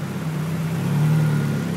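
Engine of a 1998 Dodge Neon running at a steady idle just after finally starting, a close, even hum with a low tonal drone and no exhaust fitted.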